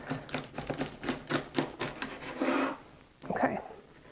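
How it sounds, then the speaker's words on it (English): Fresh asparagus stalks bent and snapped by hand on a kitchen counter while making salmon with truffle-salted asparagus: a quick run of close, crisp snaps and cracks, then a short pause and one more snap. "the trick is you're going to bend it and see where it snaps off"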